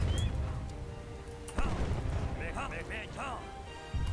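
Cannon fire in Age of Empires 3 booms over a dense game soundscape, with heavy low thuds and a talking voice on top.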